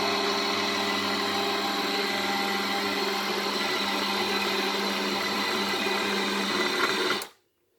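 Steady mechanical whir of an electric bread dough kneading machine working a wet, runny dough, running continuously at close range before cutting off abruptly near the end.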